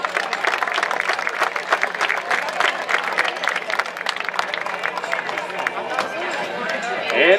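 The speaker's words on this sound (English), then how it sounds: "how about a nice round of applause for all of them?" A rodeo crowd at the 31st McCracken Rodeo applauds the bareback and ranch bronc riders with steady scattered clapping at a moderate distance, mixed with crowd chatter and a voice over a PA system.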